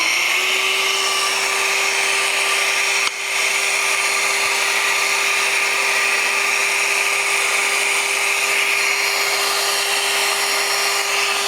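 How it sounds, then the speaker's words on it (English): Workshop vacuum hooked to a woodworking tool running continuously, a loud steady whine and rushing roar with a brief dip near the start, no speech. "So we'll turn the vacuum back on."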